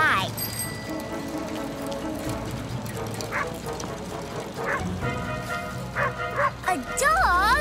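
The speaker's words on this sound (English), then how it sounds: "A dog barked at me." A dog barks and yips repeatedly in an animated storybook scene, the barks scattered and clearly audible over light background music and a voice speaking.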